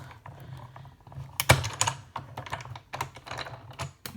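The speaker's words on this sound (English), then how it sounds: "I'm just going to go ahead and do that while I have my die cutting machine out" A die cutting machine cuts cloud shapes from cardstock, giving close, irregular mechanical clicks and ratcheting rattles with a few sharper knocks, and no talking.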